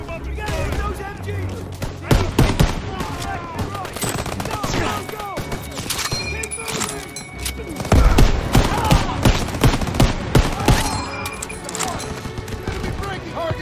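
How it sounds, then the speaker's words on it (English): Machine-gun fire from a barn in Call of Duty WW2: dense, rapid bursts of gunfire crackle continuously, loud and close, with overlapping shots. Shouting voices run underneath the barrage. "MG's in the barn!"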